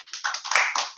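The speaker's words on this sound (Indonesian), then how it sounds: "Tepuk tangan dulu biar Kak Supri." Brief applause during an online discussion of the FPPSKI group: a short, close burst of clapping lasting about a second.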